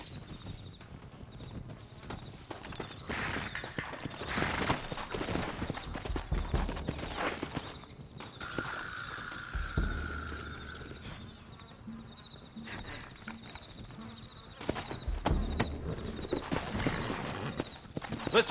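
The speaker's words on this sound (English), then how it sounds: "Looks like Carlos left us some horses." Horses clip-clopping and galloping in the Red Dead Redemption video game, hoofbeats running throughout amid insect chirps and game ambience, with occasional louder rumbles and no voices.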